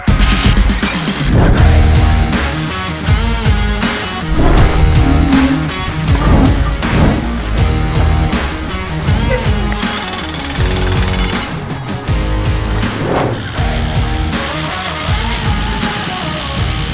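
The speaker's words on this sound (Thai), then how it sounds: "ตอนเจาะกระแทกดี ตอนสกัดก็โอเค" ROWEL DRH300 cordless rotary hammer drilling, a loud rapid hammering rattle that runs almost nonstop with brief dips in intensity, close and dominant with no talking.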